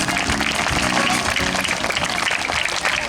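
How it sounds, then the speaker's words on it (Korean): At the ceremony of a youth school club football tournament in Incheon, a crowd applauds continuously over background music, the clapping steady and full throughout. "다시 한번 큰 박수 주십시오."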